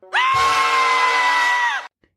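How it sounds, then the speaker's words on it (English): A cartoon Dracula lets out a single high-pitched scream, loud and close, held steadily for nearly two seconds before cutting off into silence. "the first scream that Dracula has, it just sounds like Homer's high-pitched scream"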